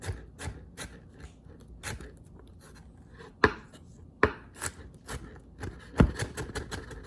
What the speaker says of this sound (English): I'm just going to mince it up and start slicing it like you would an onion